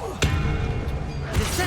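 A Bombarda explosion spell goes off in Hogwarts Legacy, with a sudden loud blast, a dense rumbling burst, and a second impact near the end.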